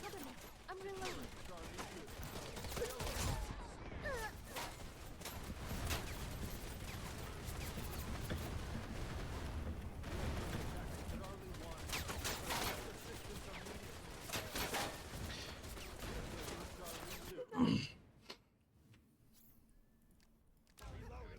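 Sustained gunfire in the online shooter game Wild Assault, dense overlapping bursts and volleys running loud for most of the stretch before cutting off abruptly near the end, with voices faintly underneath.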